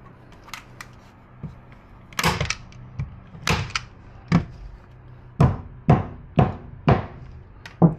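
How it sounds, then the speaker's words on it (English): Nails hammered into a wooden canvas stretcher frame, a series of sharp, fairly close knocks in uneven bursts, some blows landing in quick succession, with quiet room noise between. "Hammer those in."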